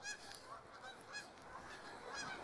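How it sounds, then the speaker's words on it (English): Canada geese honking from a flock in the Regina countryside in December, repeated overlapping calls at an irregular rhythm over steady outdoor background noise, moderately distant and continuous. "These are Canada geese."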